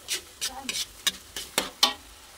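Butter shrimp stirred in a sizzling pan, with a spoon scraping in about seven short, regular strokes over a soft, steady frying hiss, close and fairly quiet.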